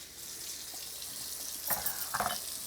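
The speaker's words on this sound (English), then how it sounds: "we're just going to rinse these under some cold water" Cold tap water runs steadily over Kalamata olives being rinsed in a kitchen, a faint continuous hiss with a couple of louder splashes and clatters near the end.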